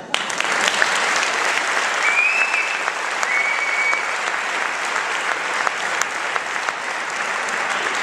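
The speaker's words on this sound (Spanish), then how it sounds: "un aplauso para él" An audience applauds the culture councillor at a folk music performance, a dense, steady wash of clapping that holds at full strength for the whole stretch, with a faint whistle rising partway through.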